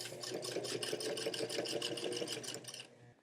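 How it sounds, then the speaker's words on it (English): A sewing machine runs steadily while top stitching the back pockets of black jeans, a close, fast rhythmic needle clatter over a motor whir that slows and stops near the end. "just top stitching these babies down now"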